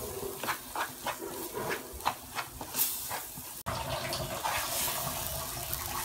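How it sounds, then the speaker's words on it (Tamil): Water being poured into a pan of spices frying in oil for a Tamil poricha kuzhambu curry with drumsticks, giving a steady hissing, sizzling wash that runs throughout, with no talk over it. "இப்போ இன்னும் கொஞ்சம் தண்ணி விட போகிறேன்"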